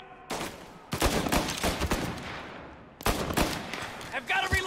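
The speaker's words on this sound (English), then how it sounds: "Shoot him before he comes up the stairs." Rapid bursts of gunfire in the video game Mafia Definitive Edition crack out in two long volleys separated by a brief pause, loud and close, with a voice talking faintly beneath the shots.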